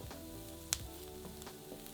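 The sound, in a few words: diced onion and carrot frying in oil in a frying pan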